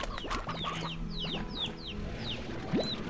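Chickens cluck repeatedly in the video game Slime Rancher, a string of short chirpy clucks over a busy game soundscape with a rising whoosh near the end, and no one speaking.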